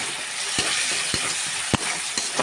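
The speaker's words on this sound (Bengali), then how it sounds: "এবার আমি মশলাটাকে কষিয়ে নেব।" Spices and chopped medium tomato sautéing in a pan for canteen-style Bengali ghugni: a continuous close sizzle broken by a few soft stirring knocks, with no voices.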